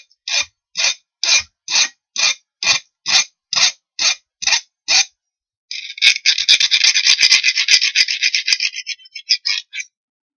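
A file scrapes a burr off a freshly cut metal edge on a portable rocket stove build: about ten evenly spaced rasping strokes, then a faster, continuous run of short strokes, close and crisp with no talk.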